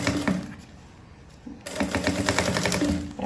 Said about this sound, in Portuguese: E aí, ó, eu vou costurar aqui.